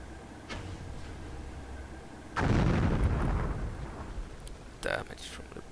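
Bomb blasts from the World War 2 strategy game War Leaders: Clash of Nations: a heavy, rumbling explosion erupts midway and lingers, followed by a shorter burst near the end, over steady battlefield noise.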